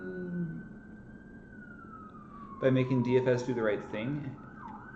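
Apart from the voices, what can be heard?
sirens outside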